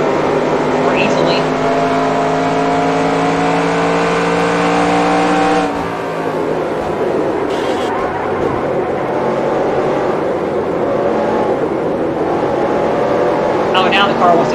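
Race car engines roar in NASCAR Racing 2003 during a career race, a loud, steady high-revving drone with shifting pitch and a sudden change partway through, as cars run close together.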